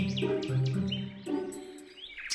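Baby birds in a cartoon chirp and tweet in quick, overlapping calls, close and fairly loud.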